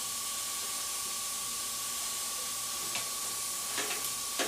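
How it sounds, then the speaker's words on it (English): Compressed air hisses steadily across a magneto being blown clean, a constant broadband rush with a few short louder bursts near the end and no talking. "take some compressed air"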